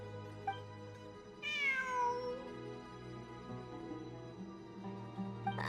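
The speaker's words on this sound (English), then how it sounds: "I'm not hearing things. It really is a cat." A cat in the video game Genshin Impact meows once clearly, a drawn-out, falling cry at moderate volume over soft background music, with faint chime-like tones before and after.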